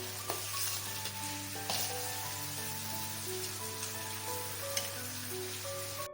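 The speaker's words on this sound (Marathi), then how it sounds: "ह्याच्यात हे सारण टाकून देते ते पण आपल्याला व्यवस्थित परतून घ्यायचं" Pea samosa filling sizzles and fries steadily in a hot pan, a continuous crackling hiss with occasional stirring scrapes, close and moderately loud with no voices.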